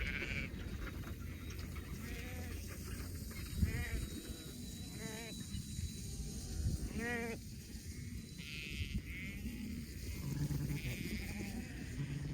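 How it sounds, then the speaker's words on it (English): Sheep ewes bleating on an Australian sheep farm, a small mob of several animals calling in repeated overlapping bleats at moderate distance over a steady outdoor background. "These girls are not as keen as they could be."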